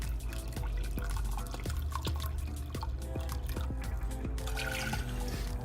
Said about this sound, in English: So in a pot, add 50-50 water and vinegar.